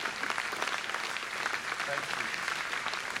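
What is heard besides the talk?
audience applause at concert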